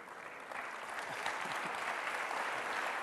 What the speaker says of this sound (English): I am very happy with the applause, of course